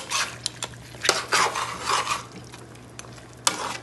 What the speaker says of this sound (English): a little ketchup and sprinkle in it. Stir that in.